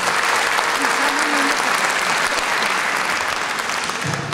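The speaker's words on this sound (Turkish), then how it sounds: "Kendinize alkışlayın." A concert audience claps steadily and loudly for a choir throughout, a dense sustained round of applause with a brief voice underneath.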